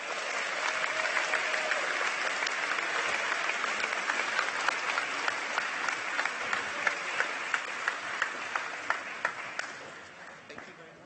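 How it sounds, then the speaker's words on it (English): An audience applauds award winners at a 2018 State of the City celebration, steady sustained clapping across the hall that slowly thins into sparser individual claps near the end. "let's have one more round of applause for all of our winners"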